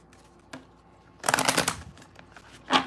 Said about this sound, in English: I'm going to pull 3 cards here